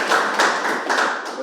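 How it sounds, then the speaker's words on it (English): An audience at a meeting claps for a speaker. Dense, loud applause from many hands sounds close and continuous, fading slightly toward the end. "So a big clap for her."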